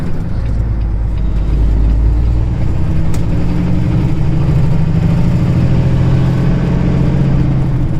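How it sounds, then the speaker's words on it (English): A car drives along a road on a long run toward Texas on Route 287. A loud, continuous engine and tire roar sits close by and holds steady throughout, with no voices. "Here comes the car."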